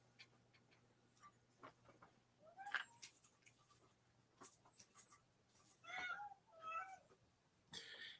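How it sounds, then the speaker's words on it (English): A cat meows softly several times, faint and a little distant, among scattered light ticks and small clicks in a quiet room. "if you hear a cat meowing,"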